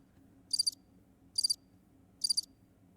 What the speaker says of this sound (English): that's what you'd hear. Crickets.